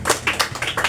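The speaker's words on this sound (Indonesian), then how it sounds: "Tepuk tangan bagi Tuhan kita Yesus Al-Masih" A children's revival congregation claps in quick rhythmic bursts, a brief lively patter of many hands at close range.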